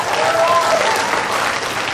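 An audience claps continuously and fairly loudly throughout, forming a dense, steady wash of hand claps with no break.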